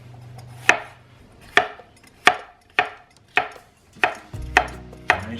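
A Hoshanho 5 Elements cleaver chopping a green pepper on a cutting board, eight crisp, evenly spaced knocks of the blade striking the board, close and loud with no talking.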